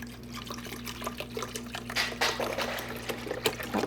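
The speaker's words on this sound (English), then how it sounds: "I'm going to take the water, pour it in here," Water is poured into the tank of a Baby Brezza Formula Pro formula maker, making a light splashing, trickling sound with small irregular bursts over a steady low hum.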